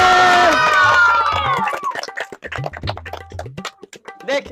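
A crowd of children at a street magic show cheers and shouts loudly in a burst that fades into scattered calls, claps and chatter.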